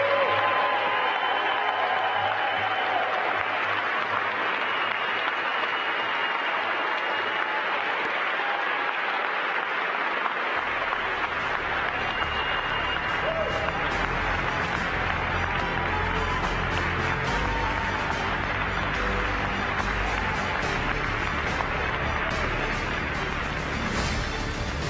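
A large audience applauds NASA's newest astronaut candidates as they stand, the sustained clapping swelling into louder, denser applause with crowd cheering partway through and continuing to the end.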